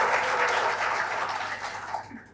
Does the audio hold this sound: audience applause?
yes